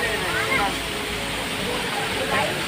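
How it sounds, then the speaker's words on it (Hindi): The large Jatmai Dham waterfall gives a continuous broadband roar of rushing water, steady and fairly near, with faint voices mixed in. "बहुत बड़े वाटरफॉल जटमई धाम के"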